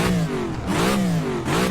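Car engine in the rFactor 2 racing game revved three times in quick succession, each blip rising and falling in pitch, loud and close with no talk.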